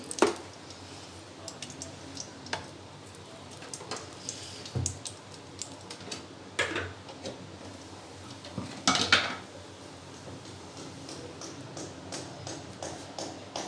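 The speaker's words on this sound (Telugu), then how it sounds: "వెడల్పుగా ఉన్న ఒక డేక్షాన్ని తీసుకొని స్టవ్ మీద పెట్టి అందులో రెండు స్పూన్ల నెయ్యి వేసి" A wide cooking pot is set on a stove and ghee is spooned in for chicken biryani, with scattered metallic clinks and knocks close by and a louder clattering burst partway through.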